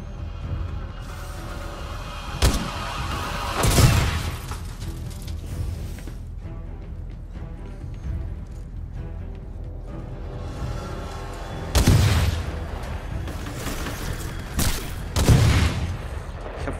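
Several heavy booming grenade launcher explosions in Titanfall 2 in separated bursts, each a sharp blast with a rumbling tail, over a low background rumble.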